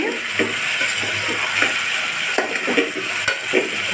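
Goat head curry stirred with softened onions in a pan, a steady sizzle of frying under repeated scraping stir strokes and occasional clinks of utensil on metal, close and continuous.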